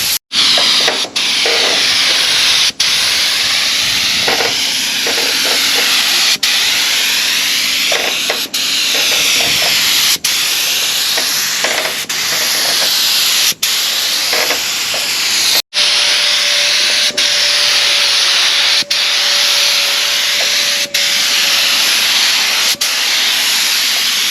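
A spray gun applies a second coat of Awlgrip paint to a 42-foot Tayana boat under restoration, hissing loudly and continuously with brief pauses between passes, close to the listener, with no talking.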